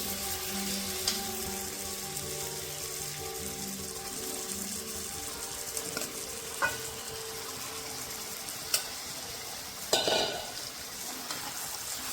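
Marinated mutton goes into onions frying in oil and gets stirred, giving a steady soft sizzle with occasional scraping and clinks from the utensil, close up and without talk.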